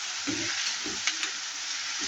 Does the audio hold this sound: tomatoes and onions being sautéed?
yes